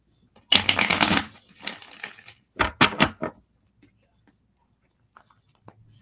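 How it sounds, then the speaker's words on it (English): Tarot cards riffle and snap together in a couple of quick bursts close up, followed by a few soft taps and near silence. "One more shuffle."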